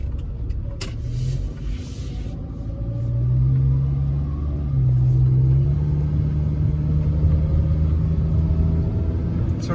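Ford Ranger engine with a cutting-out fault runs as a loud, close, steady rumble. Its pitch shifts slightly as the revs rise and sag, and a few clicks sound early on.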